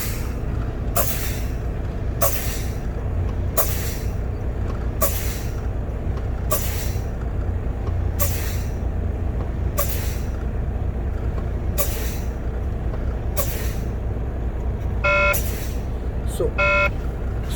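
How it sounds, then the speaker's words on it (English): Air brakes on a Class 1 truck pumped repeatedly with the engine idling: about ten sharp hissing bursts of released air at regular intervals over a steady low rumble, followed by a warning buzzer sounding in short beeps near the end. "So I have to fan the brakes to activate warning device."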